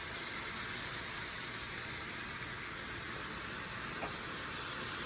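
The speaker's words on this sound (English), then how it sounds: "a little white wine to help deglaze" White wine hisses as it deglazes a hot pan for a redneck chicken and rice dish, making a steady, even sizzling hiss that carries on without a break and with no voices.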